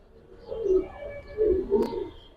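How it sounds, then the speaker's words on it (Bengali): A Harikane pigeon coos nearby, three soft throaty calls in a short rhythmic sequence against a quiet background. "এটা অরিজিনাল হ্যারিকেন কবুতর"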